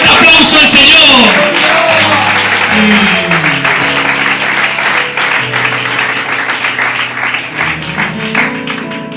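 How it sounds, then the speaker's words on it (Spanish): A congregation claps loudly at a Spanish-language church service, a dense burst of applause that slowly thins over several seconds while an organ or keyboard holds sustained chords beneath it. "¿Le puedo dar un fuerte aplauso al Señor?"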